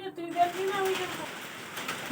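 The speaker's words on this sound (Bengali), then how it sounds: "যে এখন একটু বৃষ্টি পড়ছে" Light rain falling outside a house on a winter day: a soft, continuous hiss of drops, with a faint bird-like call and a few brief tonal sounds over it.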